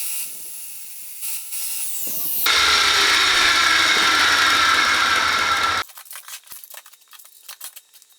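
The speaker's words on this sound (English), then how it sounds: "I'm just going to grind a little bit off the edge of these instead." An angle grinder screeches against the edge of a steel plate for a few seconds, loud and close, then stops, leaving clattering handling noises.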